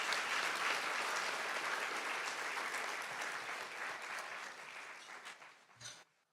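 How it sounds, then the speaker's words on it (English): An audience at an annual awards ceremony applauds the finalists and winners, a dense, sustained clapping that gradually fades toward the end. "let's take a moment to celebrate this event and applaud the finalists and every winner."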